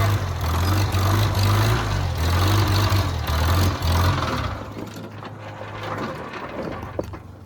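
A Farmall Cub tractor engine runs with a loud, close, low throbbing rumble, then falters around midway and dies away, leaving a quieter low drone and a faint click near the end.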